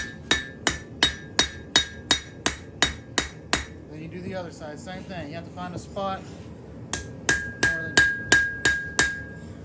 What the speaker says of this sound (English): Your hammer and your anvil. Don't leave it flat, tilt it up, and just start working along the edge.